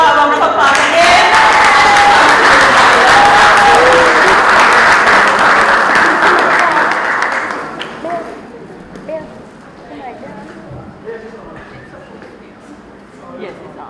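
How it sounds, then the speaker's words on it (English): Audience applause at a secondary school graduation ceremony, a loud, dense wash of clapping that fades out after about seven seconds, leaving quieter room noise and scattered voices. "Let's give her a round of applause again."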